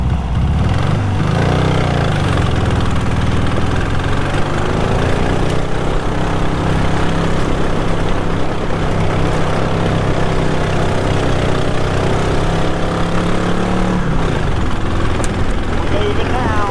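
A 1968 Volkswagen Beetle engine runs steadily at a low, rough drone while the car limps along on a flat tire, with voices talking over the engine.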